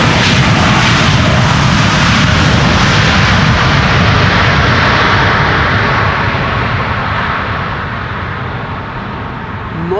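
A China Eastern airliner arriving from Shanghai lands on the Polderbaan runway at Amsterdam Schiphol in gusty weather, a loud, steady broadband engine roar holding close and constant, easing slightly toward the end.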